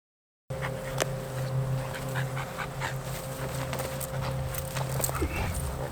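A dog struggles and scuffles while being held still during attack training. Panting and shuffling sit over a steady low hum, with scattered thumps and short bursts across the clip. No one speaks.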